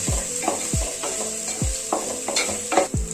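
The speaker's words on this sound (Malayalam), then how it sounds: "2 തണ്ട് കറിവേപ്പിലയും കൂടെ ചേർത്ത് നല്ലപോലെ ഇളക്കി നല്ലപോലെ വഴറ്റി മൂപ്പിച്ചങ്ങോട്ട്" Onions and curry leaves sautéing in a pan, a continuous sizzle punctuated by rhythmic spoon strokes and scrapes roughly every half second.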